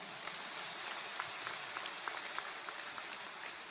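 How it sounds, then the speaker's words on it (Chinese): A small group applauds with a dense, steady patter of claps and a few sharper individual hits standing out throughout, fairly faint and with no talk. "鼓掌"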